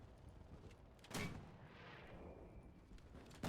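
Mortar fire in the video game Enlisted, with two sharp, heavy launch thumps about two seconds apart over a low battlefield rumble, the second cut off at the end.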